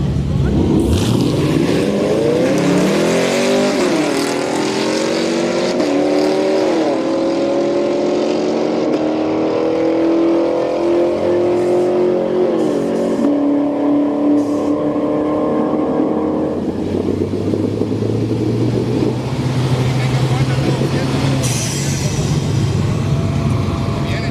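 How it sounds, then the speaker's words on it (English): A three-badged Holden Commodore and a Camaro SS launch side by side at a street-night drag race at Orlando Speed World, engines roaring loud and close as they climb through rising, shifting revs, then fading while another car idles low. "badged Holden Commodore going up against Camaro SS"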